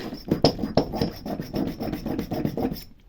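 A worn metal file with nearly smooth teeth rasps across aluminium in quick repeated strokes, about ten close rhythmic scrapes over a few seconds with no talking.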